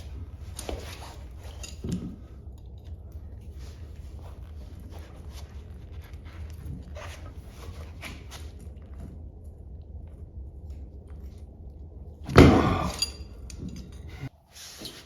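Wrenches work loose the lower bolts on a Polaris 400 engine, faint metallic clinks and taps scattered over a low background, with a louder clattering burst near the end.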